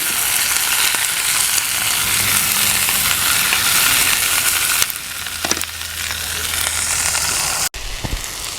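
Quail gumbo sautés in a hot cast iron skillet over a campfire, giving off a loud, close, continuous sizzle and hiss. A few faint clinks and scrapes break in near the end.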